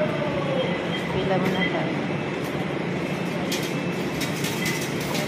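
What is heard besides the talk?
train at a metro rail station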